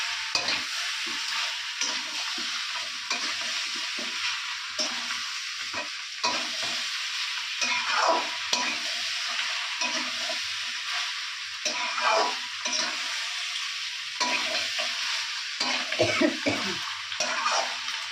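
Mutton stir-fried in a pan for a Bengali dish, with steady sizzling and repeated scraping, stirring strokes close by, loud and continuous with no talk.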